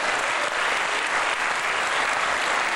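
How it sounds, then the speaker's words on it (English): Steady, dense applause from a lecture audience fills the room at an even level throughout, with no voices standing out above it. "Now let's have a round of applause for Alice Sessions."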